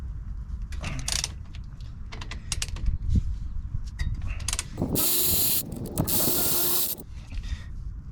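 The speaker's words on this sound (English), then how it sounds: "Now we're going to take the caliper off. These use a 19 millimeter." A ratchet clicks in quick bursts while loosening the 19 mm brake caliper bolts on a Chevrolet Silverado High Country front brake, followed by two sustained hissing sprays, all close up with no voices.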